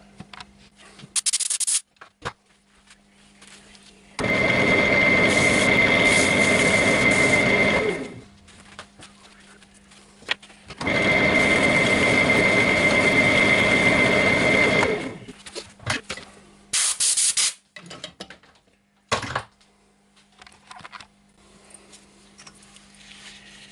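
A turned maple box spins on a woodturning lathe while being polished, two long steady bursts of whirring friction with a high whine, separated by quiet gaps and a few short rubbing scrapes.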